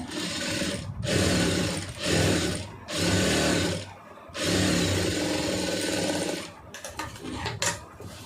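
A sewing machine runs stitching a fold of blouse fabric in close, loud bursts of about a second each, four main runs separated by short pauses, ending in a few brief stuttering stitches.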